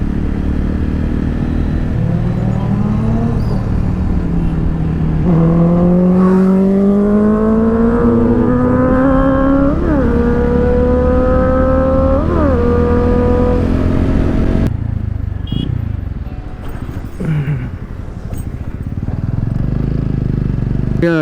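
A Honda CBR 650F motorcycle engine revs on a main road, its pitch climbing and dropping through several strong throttle blips, loud and close, then easing back to idle beside other traffic.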